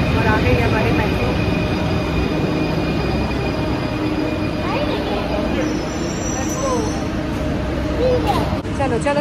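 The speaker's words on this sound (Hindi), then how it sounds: "और आ गई हमारी मेट्रो" A Paris metro train pulls into the station with a steady rumble and faint wheel squeal beneath a busy platform, while people talk nearby throughout.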